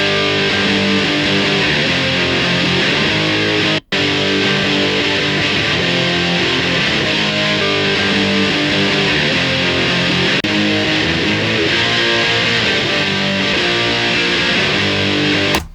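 Distorted electric guitar played through layered Mesa and Bassman cabinet impulse responses, a dense sustained chordal riff running loud and continuous with one brief dropout near the start.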